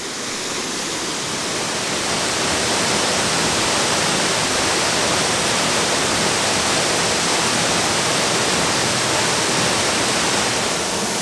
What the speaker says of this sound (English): one of the great pleasures in life is walking behind waterfalls